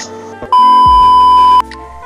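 A Sony Xperia XZ2 Ash Pink phone powering on plays a loud, sustained electronic startup tone for about a second, preceded and followed by soft handling noises.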